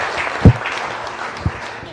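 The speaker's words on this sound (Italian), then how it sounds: "Facciamo un applauso a questo ragazzo" An audience applauds a young singer, a full steady round of clapping with a couple of sharper thumps, filling the space from start to end.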